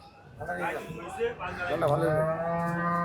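At a cattle market, a cow gives a long, close, drawn-out moo that rises and holds steady toward the end. People talk over the start of the call.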